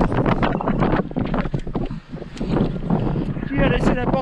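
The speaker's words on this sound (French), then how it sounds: "Il y a du vent." Wind buffets the microphone aboard a sailboat racing off Marseille toward Cassis, a constant rushing roar under near, continuous talk.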